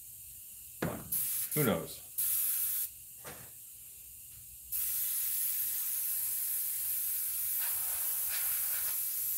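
Carburetor cleaner sprays from an aerosol can onto a rubber mask being painted, first in short hissing bursts around a brief spoken remark, then a long steady loud hiss lasting several seconds.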